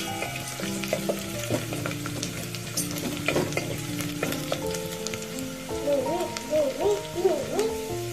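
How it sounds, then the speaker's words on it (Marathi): Onions frying in oil in a pan until golden, a constant close sizzle with stirring scrapes, while a soft tonal hum and warbling sounds rise underneath in the second half. "याला सोनेरी रंगावरती छान असं भाजून घेऊया"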